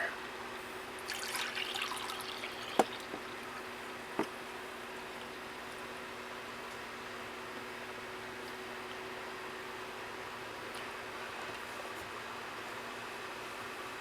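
Liquid pours in a thin, steady trickle, faint and continuous, with a couple of small clinks near the start.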